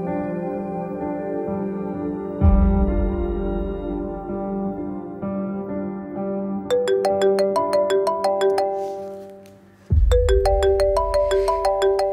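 A phone ringtone plays in a melodic, tinkling loop with repeated high chiming notes, loud and near, sounding in two rounds with a brief break between them.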